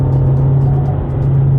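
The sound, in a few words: KIA Sportage diesel engine accelerating at full throttle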